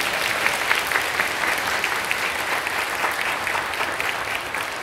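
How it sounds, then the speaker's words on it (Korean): Congregation clapping in a church service on New Year's Day, a steady, dense round of applause from many people filling the hall, consistent in level with no talk over it. "다시 한번 감사 박수를 해요."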